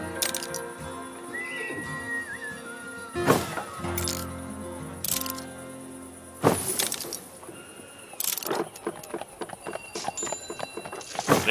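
Horse hooves clopping in the city-building video game SteamWorld Build, faint and intermittent beneath layered game music and ambient effects, with a few sharper clicks and thuds scattered throughout.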